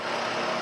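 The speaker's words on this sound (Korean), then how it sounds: "엔진 소리도 정말 좋습니다" Quiet idle of a Genesis car engine with the VIP package, free of valve or chain noise, a smooth, even hum heard up close and alone.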